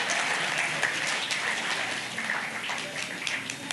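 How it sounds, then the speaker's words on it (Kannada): A lecture audience claps together for about four seconds, a dense, steady wash of many hands that stays even throughout. "ಮತ್ತು ಚಪ್ಪಾಳೆ ಹೊಡೀರಿ ಅದಕ್ಕೆ."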